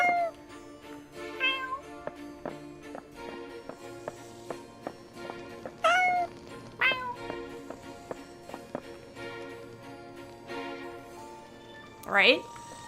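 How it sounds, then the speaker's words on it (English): A large cat meows in the video game Goblin Cleanup, several drawn-out meows scattered over a steady bed of game music, with one louder, rising cry near the end. "That kitty's as big as I am."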